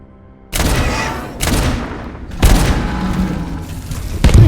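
Heavy, booming gunshots from the video game Abiotic Factor come in loud repeated bursts after a brief quiet start, with no talking.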